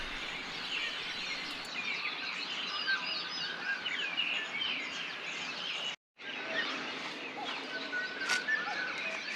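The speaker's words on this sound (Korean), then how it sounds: "이른 새벽 새들의 합창에 자동 기상했네요" A dense early-morning chorus of many birds on Yonggwolsan, a rocky mountain in Sunchang, Korea, with overlapping chirps and song phrases running steadily at moderate distance and breaking off for a moment partway through.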